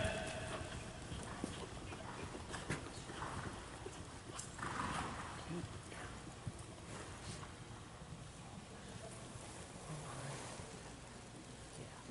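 Horses walk back in at a riding clinic in an arena, their hooves making soft, irregular clip-clop steps at a moderate distance over a broad ambient wash, with no talk.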